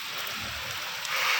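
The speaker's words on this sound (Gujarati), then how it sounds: "અત્યારે વરસાદ આવી રહ્યો છે જોરદાર" Heavy rain pours onto a rooftop terrace with solar panels during an unseasonal downpour in Bhavnagar, a dense, continuous hiss close to the listener, steady and without voices.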